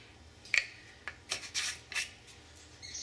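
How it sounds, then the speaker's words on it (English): A pepper mill grinds pepper over a dish of seasoned food in a home kitchen, heard as several short, faint, close rasping bursts separated by quiet pauses. "And we grind some pepper over the whole thing."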